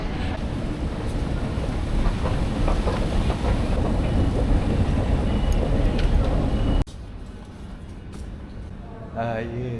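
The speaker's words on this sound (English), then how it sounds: "Yes, that's the train we're looking for" A Sydney suburban train pulls into a station platform, its loud sustained rumble and rolling noise filling the first seven seconds before dropping away abruptly to quieter platform ambience, with a voice briefly audible near the end.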